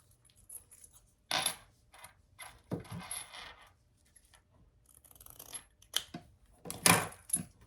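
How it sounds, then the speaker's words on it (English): A noisy metal zipper pull on number 5 zipper tape jingles and clicks in short bursts while a clutch wallet is handled, close and fairly quiet, with scattered rustling in between. "the zipper pull I'm using is very noisy"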